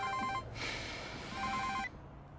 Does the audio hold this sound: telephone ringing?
yes